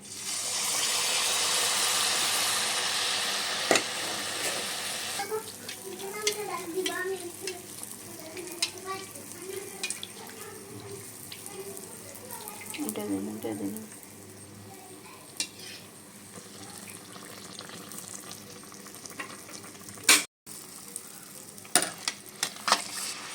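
Palm malpua pitha batter fries in hot oil, opening with a loud, dense sizzling rush that settles into quieter bubbling, with scattered clinks and scrapes of a utensil nearby.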